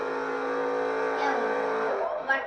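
Supercar engine in a racing video game, a steady sustained drone rising in pitch as it speeds past, with a brief bump near the end; loud and continuous throughout.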